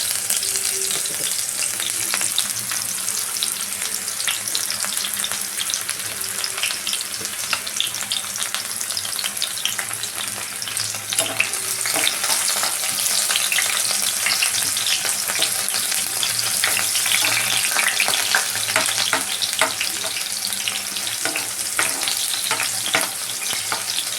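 Onions frying in a pan for a paneer dish, a steady loud sizzle and crackle that runs continuously with occasional stirring, close up and alone.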